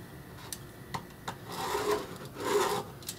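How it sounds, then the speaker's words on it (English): Pencil drawing a line on wood while building the interior structure of a wooden castle: soft scratchy rubbing strokes, close and quiet, with a few light taps before two longer drawn passes. "I'll just draw a line there"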